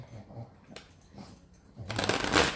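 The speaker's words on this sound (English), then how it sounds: "there's a little dog that needs attention down here" A small dog whimpers softly for attention nearby, with short quiet whines, then a louder rustling burst near the end; no one speaks.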